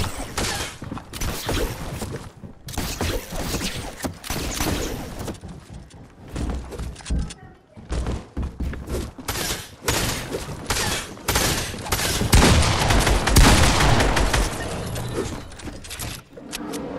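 Gunfire in the video game Fortnite: rapid bursts of shots come in irregular clusters with brief gaps throughout, loud and close, with little talk.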